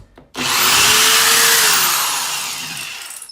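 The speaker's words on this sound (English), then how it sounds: "get your drill bit, aim, and just give it a quick pop." A power drill bores a 5/8 inch hole into a wall for an anchor. It spins up abruptly into a loud close whine, holds steady, then slowly fades with no talking.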